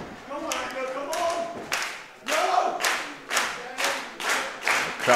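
Rhythmic group clapping from a wrestling crowd in a church hall, bursts of claps repeating about every second, fairly close and steady with some voices and thuds mixed in.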